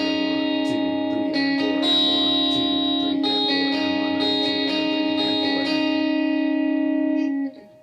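A textured electric guitar riff for a lead part of "Joy To The World (Joyful, Joyful)" loops continuously through effects with chorus, echo and reverb, a bright sustained tone under repeating picked notes, loud and alone before fading at the end.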